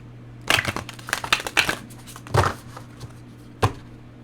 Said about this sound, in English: Shuffle this deck here.